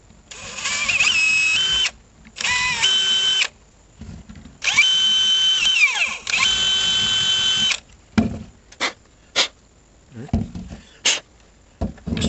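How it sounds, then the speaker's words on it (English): A power drill boring 7/32 holes into a DeWalt DCL077 compact task light whines in several sustained bursts, then gives way to short clicks and knocks of handling. "We're going to drill them out to this"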